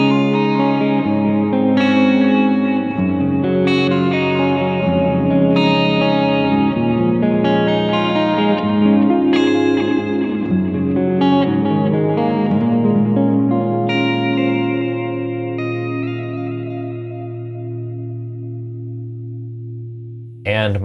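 Clean electric guitar tone from a Fractal FM9 amp modeler preset, a flowing melodic passage with lush chorus, echo and reverb, notes ringing and overlapping steadily, then a long fading tail at the end.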